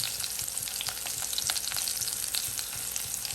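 Potatoes frying with green chillies, ginger and turmeric crackle busily in a pan as they are stirred, with dense spitting sizzle and repeated scraping strokes throughout.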